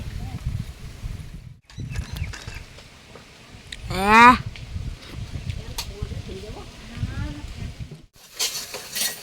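Someone cooking on a home gas stove, with busy stirring, scraping and light frying sounds close by, a few brief sharp clatters and a louder sweeping burst midway, and talk heard over the kitchen activity.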